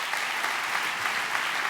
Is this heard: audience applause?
yes